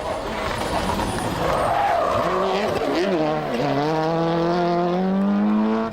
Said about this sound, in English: Francois Delacour and Daniel Grataloup in the 2-wheel drive Peugeot versus Piero Liati and Fabrizio Pons in the 4-wheel drive Subaru.